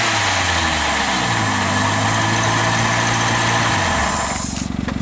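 A three-cylinder engine running with orbeez in it roars loud and steady with a harsh, buzzy drone, its pitch sagging slightly before it stumbles and cuts out into rough sputtering at the end.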